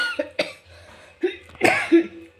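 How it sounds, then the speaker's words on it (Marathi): A woman coughs several times at home, a few short, harsh bursts spaced out with brief pauses, close and fairly loud. "खोकला अजून गेला नाही माझा"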